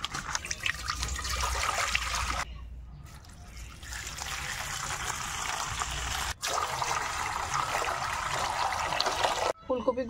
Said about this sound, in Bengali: এবার এই ফুলকপিটা ভালো করে ধুয়ে নেব জল দিয়ে।